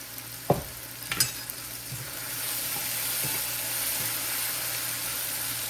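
Tomatoes with salt frying in a pan give a steady sizzle, with a few sharp clinks of stirring near the start, and no voices.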